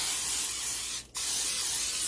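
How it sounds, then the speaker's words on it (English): A single steady hiss of cooking oil spray onto a chaffle maker, close and quiet, broken by a brief pause partway through. "Give it a good spray."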